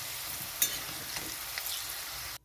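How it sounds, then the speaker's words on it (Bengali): Half-boiled potato pieces frying in oil in a pan, a steady close hiss of sizzling with a few light stirring clinks, ending abruptly; no talking. "তো এখানে আলুটা হাফ সিদ্ধ হয়ে গেছে ভাজাও হয়ে গেছে"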